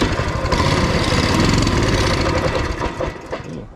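A Coleman mini-bike engine runs loud and rough for a few seconds, then sputters and dies away near the end.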